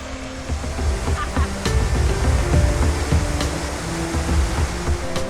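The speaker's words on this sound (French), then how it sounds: "On vient juste d'arriver à la cascade de Materoni après peut-être 1 heure de randonnée à travers la jungle." Materuni waterfall near Arusha, Tanzania, reached after a jungle hike: a loud, steady broadband rush of falling water fills the whole stretch, with faint scattered background sounds and no clear speech.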